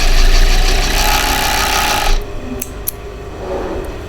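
An overlocker serging down the edge of a blouse facing makes a loud, steady mechanical whirr for about two seconds, then cuts out, leaving a few small clicks.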